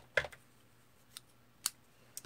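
Scissors snipping twine off a spool for a handmade birthday card: a few sharp, quiet clicks and snips spaced irregularly, close by in an otherwise quiet room.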